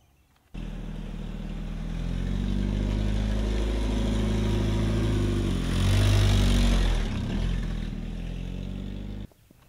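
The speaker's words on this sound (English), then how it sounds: "that just means I run it over with my truck." A truck starts rolling and drives over a utility wallet, its engine a loud steady rumble that swells briefly midway before cutting off.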